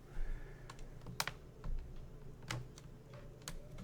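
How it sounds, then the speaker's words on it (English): Keys clack on a computer keyboard as someone types a calculation, in sharp, uneven bursts of clicks with short pauses between them, close and clear over a quiet room hum. "I don't even know why I'm typing this"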